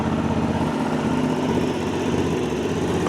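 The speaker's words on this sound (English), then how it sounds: "This particular bike also comes with an SC Project exhaust, which sounds just great." A Honda CB750 Hornet motorcycle fitted with an SC Project aftermarket exhaust idles close by, a steady, throbbing low rumble that holds even throughout with no talk.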